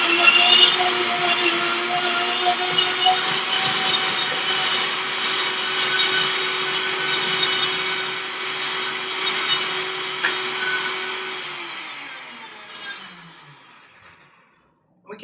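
High-speed blender grinding roasted red pepper hummus, a loud steady whirring roar that holds for several seconds, then winds down and fades as the motor slows to a stop.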